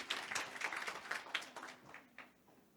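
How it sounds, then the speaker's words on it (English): Audience applause at a Taiwan–Africa business leaders' summit, a faint burst of scattered clapping from a crowd that thins and fades toward the end. "Please give a loud round of applause to Mr."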